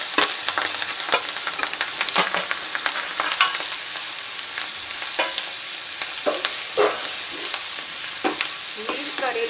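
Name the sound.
green chillies and spices frying in hot oil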